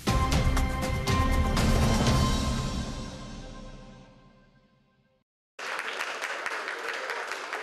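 Sustained applause from an audience in a school assembly hall, dense clapping that swells, fades away to near silence, then resumes abruptly at full strength.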